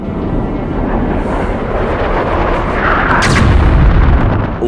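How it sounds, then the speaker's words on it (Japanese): A bomb blast in the video game Metro Last Light, a dense, loud rumbling roar sustained for several seconds with a sharper crackling burst near the end. "ああ、爆弾が。"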